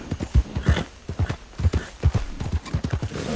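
Horse hooves clip-clop at a steady walking rhythm in a Wild West role-playing video game, a close, even string of hollow knocks with no voices.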